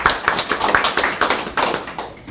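Clapping welcoming a calligraphy teacher at a literary association presentation, a fairly small group clapping in a rhythmic pulsing pattern, close and clear, heard without talk.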